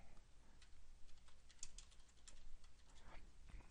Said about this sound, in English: So you can edit that and type in Percy Russell,